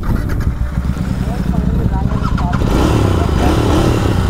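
A Royal Enfield GT 650 motorcycle is started before a drag race, its engine turning over and settling into a loud, rough idle close by, with voices talking over it.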